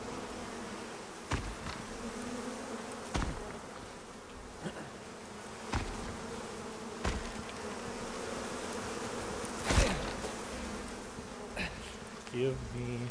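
Bees buzzing in the survival game Icarus, a steady continuous drone under intermittent sharp clicks and thuds of game activity, with no voices.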